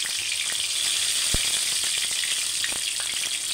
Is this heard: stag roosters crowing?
no